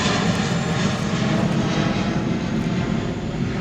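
A fixed-wing airplane passes overhead during an outdoor city ceremony, a loud, steady, broadband engine roar filling the whole stretch with no speech over it.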